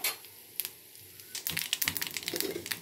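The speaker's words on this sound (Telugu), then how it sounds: "ఈ చిటపటమంటున్నాయి ఫ్రెండ్స్." Tempering seeds crackle and splutter in a little hot oil in an Andhra home kitchen for gongura pappu, sharp irregular pops starting sparse then turning into a dense, close crackle with no voices over them.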